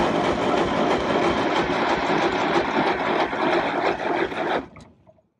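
A 6V92 two-stroke diesel in an MC9 coach cold-starting without pre-warming, suspected of leaking or clogged injectors or stuck rings: a loud, rough, rapid clatter that runs steadily for several seconds, then cuts out abruptly.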